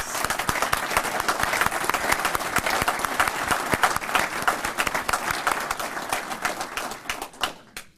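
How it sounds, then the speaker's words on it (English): Audience applause for award winners at a Reserve Family Readiness award ceremony, a dense, sustained burst of clapping from a large crowd that holds steady for most of the span before tapering off at the end. "Please join me in a round of applause to recognize all of our winners."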